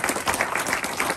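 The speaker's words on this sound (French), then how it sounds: "Je vous propose qu'on les remercie en les applaudissant." Audience applause at a school extension inauguration ceremony, a dense, steady patter of many hands clapping close and loud throughout the short burst, with no voices rising above it.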